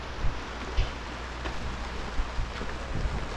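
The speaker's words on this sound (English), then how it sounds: "Now it's raining outside, so good thing we're inside today." Steady rain falls outside a building as a dense, even hiss with occasional soft low thumps of drops, heard from indoors and with no talking.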